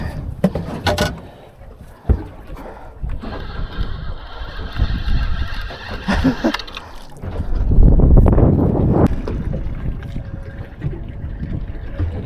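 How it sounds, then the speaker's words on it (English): Water sloshes and splashes around a fishing boat off Fraser Island, with a motor humming in the background and bursts of wind rumble through the middle. "Oh, we got boats coming out here now"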